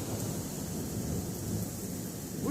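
A thunderstorm over Colorado Springs, Colorado rumbles with deep, rolling thunder above a dense, steady wash of falling rain, loud and continuous and swelling slightly toward the end.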